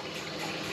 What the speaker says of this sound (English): The pump will go off in a minute